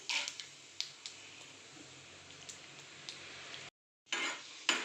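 Peanuts, dal and cumin stirred in a pan over a low gas flame, light scraping and repeated clinks of a spoon against the pan, quiet and close, with a short silent gap near the end.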